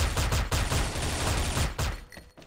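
Rapid, continuous automatic fire from a Gold Kris SV-CRB in a shooter game, a dense rattling stream of close, loud shots that briefly pauses and then cuts off near the end.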